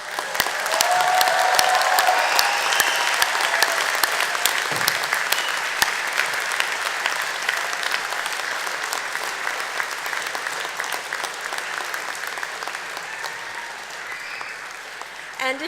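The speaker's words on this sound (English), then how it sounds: "thank them with a mighty cheer and a round of applause" Graduates at a Deakin University graduation ceremony give a mighty cheer and sustained round of applause, a dense, steady wash of clapping and whoops from a large hall crowd that gradually eases over about fifteen seconds.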